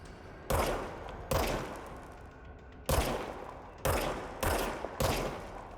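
A gun in the game Control fires five or six loud, close single shots, each a sharp crack with a ringing decay, spaced irregularly about a second apart.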